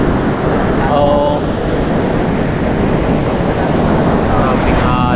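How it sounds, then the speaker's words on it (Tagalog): Loud surf and wind-driven waves washing onto a shore near a market in Bucana, a steady broadband roar with no let-up and wind buffeting the microphone throughout. "Maraming alon mga kabisdak."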